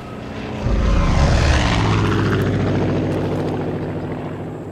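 A propeller plane in the video game Far Cry 5 flies close overhead, its droning engine swelling loudly with a sweeping pitch shift as it passes, then thrumming on steadily and slowly fading.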